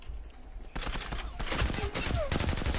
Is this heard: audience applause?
no